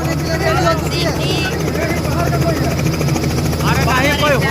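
A helicopter flies overhead with a loud, continuous rotor and engine drone, and voices talk over it throughout.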